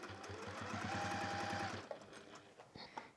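A sewing machine stitches fabric with thread, its fast, even needle rhythm running loud and close for under two seconds before stopping, followed by a few small handling clicks.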